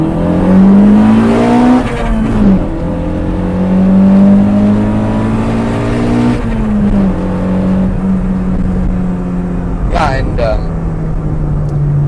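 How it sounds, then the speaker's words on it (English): A 1987 Toyota Corolla AE90 restomod with manual gears accelerates hard through the gears, its engine note climbing in steady sweeps that break at each shift, loud and close from inside the cabin with people talking over it. "Yep, I'm just going to do a pull here"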